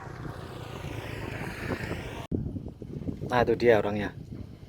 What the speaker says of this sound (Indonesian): Anginnya kenceng banget ini